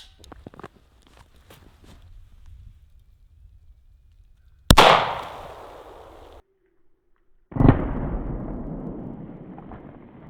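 Two loud 9mm gunshots ring out outdoors a few seconds apart, each with a long rumbling echo, the first scattering a table of twelve cans; light footsteps and small knocks come before.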